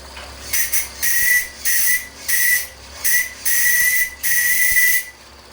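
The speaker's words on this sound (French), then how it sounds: "aux alentours des 400 grammes, de 400-500 grammes de pression de gaz, la chaudière chante" Gas-fired boiler on the steam launch Odette hisses and sings under 400 to 500 grams of gas pressure in about six loud, close bursts of high whistling steam, each followed by short pauses.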